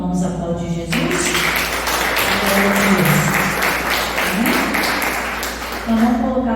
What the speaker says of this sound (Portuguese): Então vamos aplaudir Jesus.